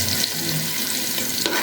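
Chopped onion, cinnamon, cardamom and peppercorns frying in hot oil for beef khichuri, giving a steady, close, even sizzling hiss with no talking.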